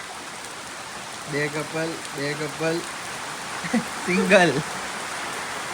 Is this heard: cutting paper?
no